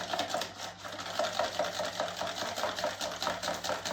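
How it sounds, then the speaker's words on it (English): Batt wash mixture for kiln shelves is whisked to break up a lump, giving a fast, rhythmic, close scraping and clicking with no speech. "I'm going to give it a little whisk because there's an odd lump in it"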